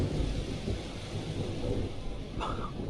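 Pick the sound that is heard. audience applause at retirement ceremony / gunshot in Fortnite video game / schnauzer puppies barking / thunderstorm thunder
thunderstorm thunder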